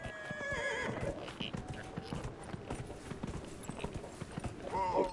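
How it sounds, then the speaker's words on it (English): A horse in the video game Dragon Age Inquisition clip-clops with steady hoofbeats, neighing near the start and again at the end, with a voice speaking over it. "come on, horsey."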